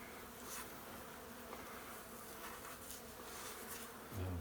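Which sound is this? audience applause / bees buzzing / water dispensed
bees buzzing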